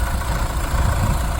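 A 2017 Chevrolet Colorado Z71 4WD with the Duramax 2.8 inline four-cylinder diesel idles steadily, a close, even low rumble with no talking.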